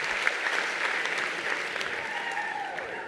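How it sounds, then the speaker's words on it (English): An audience at a college Q&A debate at LSU claps in honor of public educators, a steady, moderately loud wash of many hands that continues evenly throughout without any speech. "So a round of applause to any public educator."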